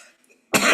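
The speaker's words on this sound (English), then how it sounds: "I have a little chronic cough." A single sharp, loud cough from a man with a chronic cough, bursting abruptly after near silence in a quiet indoor conversation.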